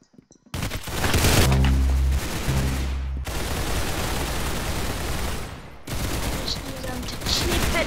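Rapid automatic gunfire in an Arsenal-mode shooter video game, dense loud bursts with a few deep booming shots, continuous across the clip.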